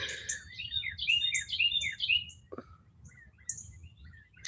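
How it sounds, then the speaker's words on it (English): Several birds chirp and trill outdoors in quick bright bursts, fairly close, over a low rumbling background hum with no talking. "I feel like the birds are louder than I am."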